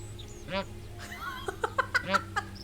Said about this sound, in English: Oh, there's a goose here.